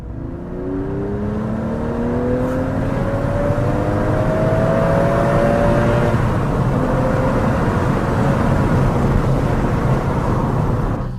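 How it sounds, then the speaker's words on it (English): An Aston Martin DB7 V12 accelerates from inside the cabin, windows lowered, its engine note rising steadily through the revs, loud and continuous with a smooth, climbing whine. "it seems to have a captivating sound when accelerating"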